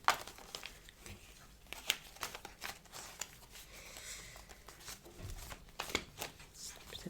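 A black tarot deck is shuffled by hand at close range, with soft irregular riffles, slaps and papery rustles that are fairly quiet throughout.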